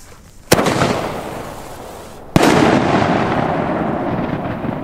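Consumer fireworks from a large mixed assortment set off outdoors, two sharp loud bursts a couple of seconds apart, each followed by a long crackling, hissing roar that fades slowly.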